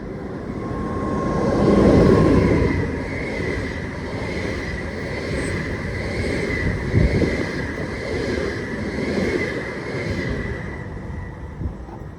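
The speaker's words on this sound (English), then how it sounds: "Here comes a train." A train rumbles past at moderate distance, a steady broadband roar that swells early and then holds with rhythmic clatter, no voices.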